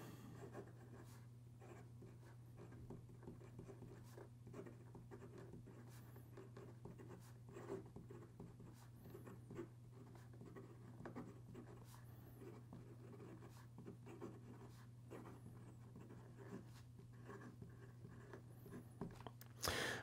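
Fine-nib fountain pen scratching across paper in a writing sample, a steady stream of soft nib strokes and small taps against a low constant hum, no talk.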